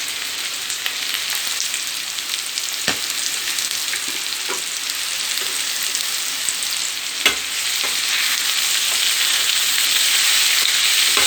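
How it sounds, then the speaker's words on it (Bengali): Pointed gourd and onion fry in a pan with chili and turmeric powder, a loud, constant sizzle broken by a few sharp clicks of stirring against the pan. "আমার পটল পেঁয়াজ সবই মোটামুটি ভাজা হয়ে এসছে"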